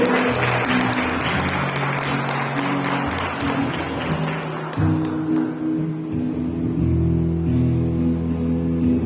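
A church congregation applauds at a faith-strengthening service, sustained clapping across the room that fades as held organ or keyboard chords rise and take over toward the end.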